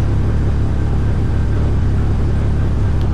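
A car engine idles steadily in Car Mechanic Simulator 2021, a low continuous rumble that stays even and loud throughout with no talk over it.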